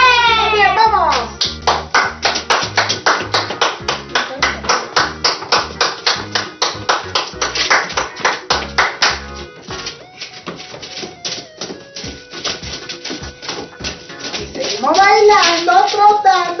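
A teacher claps her hands in a steady, rapid rhythm during a children's movement activity at primary school, loud and close; the clapping breaks off midway, then resumes sporadically as a voice speaks at the end.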